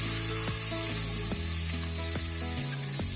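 Sliced tomatoes go into a hot pan of sizzling ginger-garlic masala for a Guntur chicken biryani, a loud, continuous hiss with a few stirring knocks and scrapes over it, close up and without speech.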